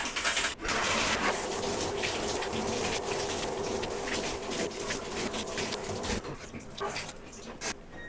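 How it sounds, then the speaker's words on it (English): Shower water runs for a hot and then a cold rinse, a loud, continuous gushing spray that cuts off briefly near the start and shifts in intensity as the flow changes. "That was just a hot water rinse and a cold water rinse in the shower."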